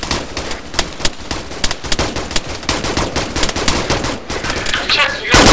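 Sustained suppressive gunfire in a military shooter game, loud rapid bursts of automatic fire cracking almost continuously, with a voice faintly underneath.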